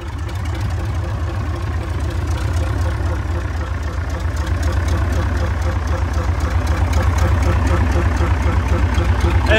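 A Mitsubishi 8DC9-3A eight-cylinder diesel boat engine rated at 370 hp idles with a loud, steady low rumble and an even mechanical throb throughout, with voices faintly present underneath.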